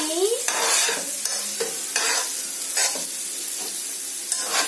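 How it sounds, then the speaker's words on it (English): A spoon stirs a Moroccan fish mixture in a pan, with repeated scraping strokes in an irregular rhythm over a steady soft sizzle, close and clear, with no voices. "We'll just mix it around a little more."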